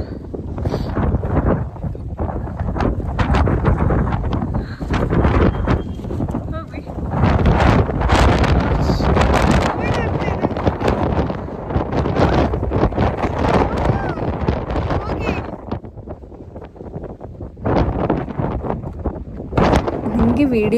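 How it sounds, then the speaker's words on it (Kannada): Strong monsoon wind gusts across a mountain in Chikmagalur, buffeting the microphone with a loud, continuous roar that swells and dips for the whole stretch. "ವಿಡಿಯೋದಲ್ಲಿ ಗಾಳಿದು ಫೋರ್ಸ್ ಎಷ್ಟಿದೆ ಅಂತ ಕೇಳ್ತಾ ಇರ್ಬೋದು."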